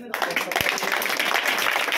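A crowd claps loudly and steadily for a village girl at a Shiv Jayanti celebration held at a Zilla Parishad primary school in Takarwadi.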